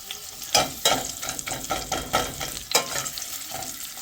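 Onions frying in a pan for saggu sizzle steadily while a utensil stirs them in regular scraping strokes, close and clear with no talking.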